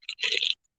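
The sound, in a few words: crunching potato chips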